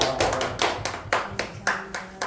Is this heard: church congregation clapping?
yes